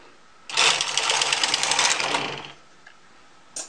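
A knitting machine carriage slides across the first row of a cast-on, giving a loud, continuous two-second whirring rasp that starts abruptly and stops, followed by near silence and one faint click.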